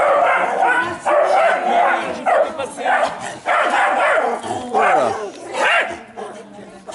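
A nervous dog barks and yips on a torchlit guided walk through the old town of Vallauris, the short barks mixed in with a guide talking close by over crowd noise.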